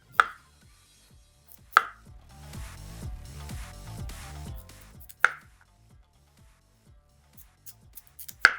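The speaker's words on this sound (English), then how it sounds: "Sweet potato. Slice into half-inch rounds." Knife slicing a sweet potato into half-inch rounds on a cutting board, a few sharp separate chops spaced apart with a denser stretch of cutting in the middle, close and fairly quiet.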